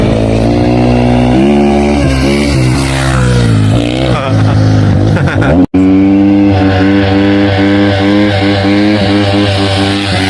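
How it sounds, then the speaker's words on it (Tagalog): A rental motorcycle on Ras Al Khaimah beach runs loud and close, its engine revving up and down in pitch, then dropping out for an instant before settling back into a steady, throaty idle. "Ayun yung tumunog ngayon. Motor yon"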